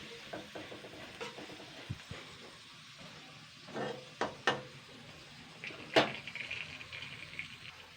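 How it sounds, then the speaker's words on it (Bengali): Whole cumin seeds and dried red chilies crackle in hot oil for a tempering in a pan with potatoes, faint and close, with scattered pops, a spoon scraping and stirring, and a few louder clinks, no voices. "ফোড়নটা একটু দিয়ে নেবো ওটা আস্ত জিরে আর শুকনো লঙ্কা দিলাম"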